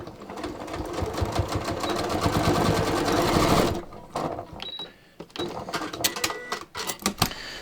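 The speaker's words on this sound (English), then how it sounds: "I'm just going to continue to stitch all the way to the bottom." A sewing machine stitches a knit yoga-pants waistband. It runs in a steady, rapid whir, then breaks into shorter stop-start bursts of stitching.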